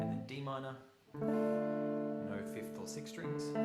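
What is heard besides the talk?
No everyday noise stands out behind the speech.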